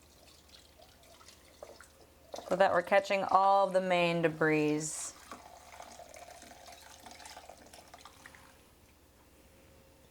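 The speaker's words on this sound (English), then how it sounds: "So just pouring it really slowly" Bone broth poured slowly through a strainer into a bowl, giving a steady trickle and dripping of liquid that runs under a person's speech and continues faintly afterward.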